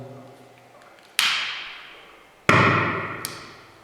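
Hydrogen-filled soap bubbles ignite in two sharp explosive bangs about a second apart, each loud crack followed by a fading rush, in a classroom chemistry demonstration.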